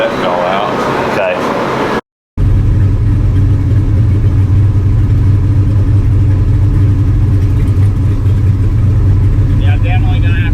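A turbocharged LS-swapped Foxbody Mustang engine idles high and steady, a continuous low mechanical drone that fills the clip after a brief cut, with voices talking nearby over it.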